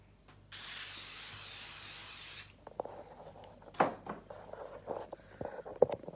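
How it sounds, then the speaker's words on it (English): A short aerosol burst of cooking spray onto a pan for an omelette hisses for about two seconds, followed by quiet clinks and light handling noises. "I'm going to spray my pan evenly."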